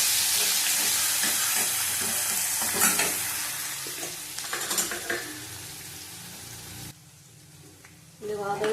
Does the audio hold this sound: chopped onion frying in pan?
yes